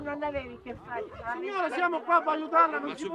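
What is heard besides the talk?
No everyday noise stands out behind the speech.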